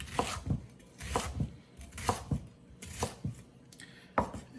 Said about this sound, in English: So I'm gonna kind of dice this one whole shallot.